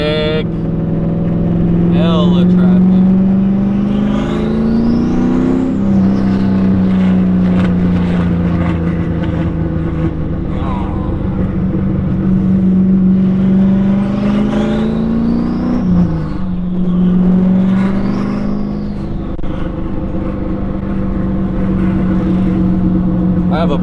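A 6-speed Hellcat Charger in slow traffic, its engine droning loudly with several rising and falling revs as gears shift, a voice talking over it at times.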